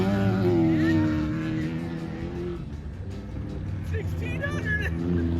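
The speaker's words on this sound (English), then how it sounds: "Wiley truck going by, pretty famous trophy truck, and just a mixed bunch of group coming through" Off-road trophy trucks pre-running a desert race course near Primm, engines droning and passing by with shifting pitch, a steady loud rumble that swells and fades as vehicles come through, with people talking nearby.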